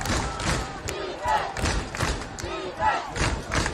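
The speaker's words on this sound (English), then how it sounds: "Crowd getting into it." A college football crowd at a Chowder Bowl game between SUNY Maritime and Massachusetts cheers and roars in swelling waves, distant and continuous, with rhythmic thumps and shouts rising through the stands.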